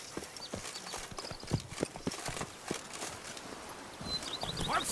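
Hooves of Geralt's horse Roach clip-clop steadily across ground in The Witcher 3 video game, a brisk walking rhythm of close, distinct hoofbeats with faint ambient rustle and an occasional soft whinny-like tone.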